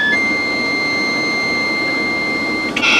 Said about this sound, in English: That is a modem carrier, and we've just connected to it